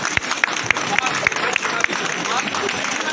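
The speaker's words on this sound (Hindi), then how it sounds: "ताली होना चाहिए भाई" Applause rises from an audience at a welcome gathering in a hospital, a steady crackle of many hands with a few sharper claps standing out, heard under someone talking.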